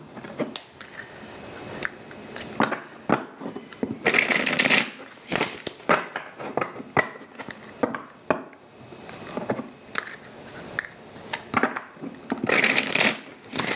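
Tarot cards are shuffled repeatedly by hand, with bursts of crisp riffling and soft slaps and taps between them, close and fairly loud.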